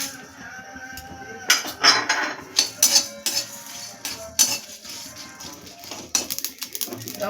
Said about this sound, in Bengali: এবার চলুন আমি শুকনো কড়াই আগে ভেজে নিই ধনে, জিরে আর শুকনো লঙ্কাটা।